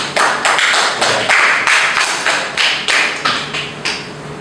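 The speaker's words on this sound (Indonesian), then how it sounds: "Tepuk tangan untuk Mas Ibad." A classroom claps for a student in a series of sharp, regular bursts, loud and close, with no talk over it.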